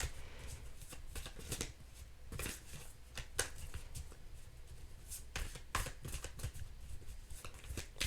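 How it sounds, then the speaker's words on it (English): A deck of cards being shuffled by hand at a tarot-style reading, with repeated crisp riffling bursts and flutters through the whole stretch, close and fairly steady, with no talk. "they're telling me to shuffle"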